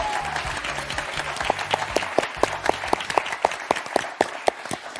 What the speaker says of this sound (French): on profite de vos applaudissements pour accueillir Thierry Beccaro